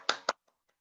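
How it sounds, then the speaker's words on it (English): Two sharp claps or hand slaps, close and loud, in quick succession from a student in an online class, followed by near silence with a couple of faint ticks. "I want you to give yourselves a round of applause"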